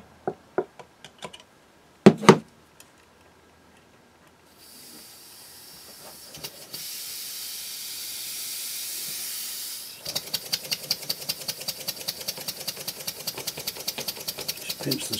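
A small wig-wag duplex twin-cylinder model steam engine running on compressed air: a few knocks and taps, then a steady hiss of escaping air, then a rapid, even chuffing beat as the engine runs.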